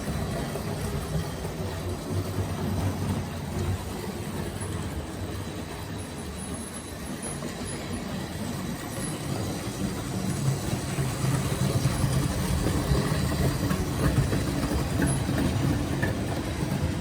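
A Hornby 9F Evening Star model train runs steadily along its track with a continuous low rumble and faint clicking, no voices, getting slightly louder toward the end.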